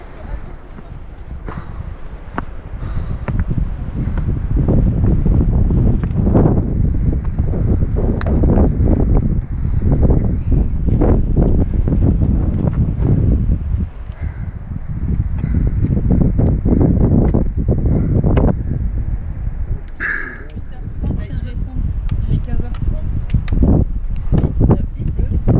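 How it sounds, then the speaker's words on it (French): Strong gusty wind buffets the microphone on the Sentier Blanc-Martel trail in the Verdon gorge, a loud, uneven roar that surges and dips throughout with rustling underneath. "Le vent s'est levé."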